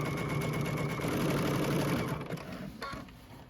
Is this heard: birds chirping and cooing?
no